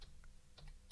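A password is typed on a computer keyboard, heard as a few faint, quick key clicks spaced irregularly in a quiet room.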